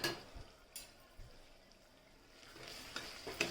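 Ground coriander, garam masala, chili powder and turmeric being stirred into an onion-tomato base for spicy misal in a pressure cooker, with faint scraping strokes and soft sizzle, quiet and close, no talk.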